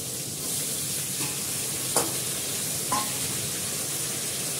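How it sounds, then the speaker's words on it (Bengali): Chicken coated in turmeric and salt fries in a pan, a steady soft sizzle with a couple of brief scraping clinks from stirring, and no one speaking. "চিকেনটা হলুদ দিয়ে নুন দিয়ে মাখিয়ে রেখেছি, চিকেনটা দিয়ে দেবো।"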